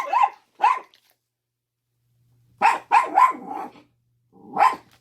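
Several sharp dog barks from dogs being walked outdoors, two quick barks, then a burst of three or four, then one more after a pause, fairly close and loud with silence between.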